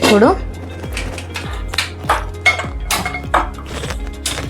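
A non-stick pan is handled for cooking pulao, with a series of sharp metallic clinks and knocks spaced every half second or so, close and fairly loud.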